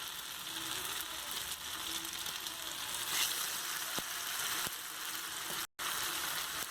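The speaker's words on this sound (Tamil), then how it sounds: "இந்த மாதிரி நம்ம எடுத்து வச்சுருக்க எல்லா ஃபிஷ்ஷையும் ஒன்று ஒன்றா வந்து ஃப்ரை பண்ணிக்கலாம்" Marinated fish pieces frying in hot oil in a kadai, a steady bubbling sizzle with a few soft clicks and a brief dropout, no one speaking.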